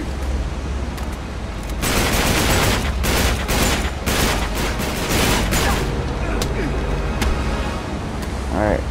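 Gunfire aboard a ship in Uncharted 3: Drake's Deception, with rapid automatic bursts and single cracks over a steady low rumble, loud and close, volleys pulsing in clusters before thinning into sparser shots near the end.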